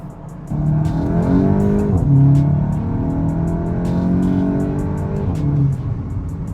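A VW Mk8 GTI running on an ethanol blend near E85 accelerates hard, its engine loud and close as it climbs through the revs, with gear changes marked by brief dips in pitch.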